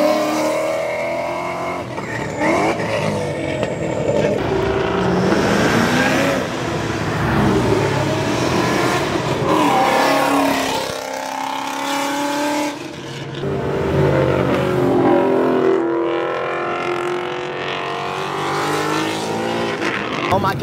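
Loud Ford Mustang engine revving and roaring continuously through its exhaust at a Mustang car meet, with excited voices talking over it throughout.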